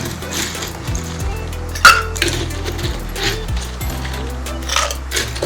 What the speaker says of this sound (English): Filling up my shaker with ice as usual